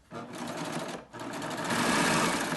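A serger sewing fabric with its differential feed raised, running fast and close in a steady mechanical whir that stops briefly near the one-second mark and then resumes louder.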